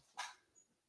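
A single sharp dog bark bursts out once, fairly faint, followed by quiet with no talking.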